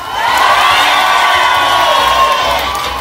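A large crowd at a Thai political rally cheers and shouts in unison, a loud sustained roar that swells and then slowly eases off.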